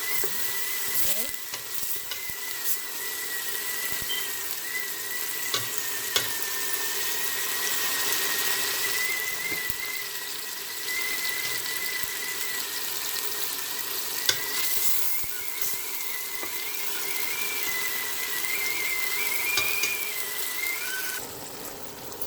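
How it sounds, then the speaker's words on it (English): Oil and aromatics frying steadily in a pot for Guyanese-style shine rice, a continuous sizzle with occasional stirring clicks and a faint whistling tone running underneath. "Fry this a little, then I'm going to add the rice and fry the rice with it."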